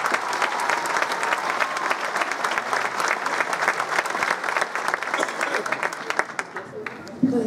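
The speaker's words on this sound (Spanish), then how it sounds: "Pedimos un fuerte aplauso para Liz Jamuy de Jalabe" Strong, continuous applause from the crowd at a tribute event honoring a doctor, with the clapping holding steady for several seconds before tapering off as someone starts to speak.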